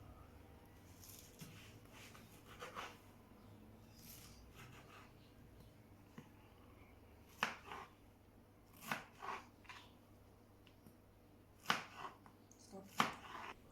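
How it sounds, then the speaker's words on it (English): A knife cuts a whole pineapple into squares, faint chops and taps coming in scattered clusters, sparse at first and then a few sharper, louder strikes near the end, with quiet room noise between. "For my pineapple sorbet, you need one pineapple and you need to cut it into squares."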